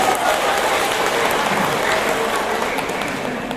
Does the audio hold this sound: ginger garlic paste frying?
no